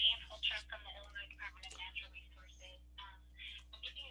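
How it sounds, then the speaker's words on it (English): A mobile phone ringtone goes off outdoors during a winter tree identification walk in Illinois, a bright melodic ring over a steady low hum. "Hold on one second, my phone's going off."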